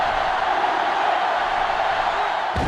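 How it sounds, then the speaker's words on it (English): A stadium crowd roars steadily in the NCAA Football 2005 video game on PlayStation 2, a dense, continuous wash of cheering with no break, fairly loud and with no voices rising above it. "this crowd is going absolutely insane"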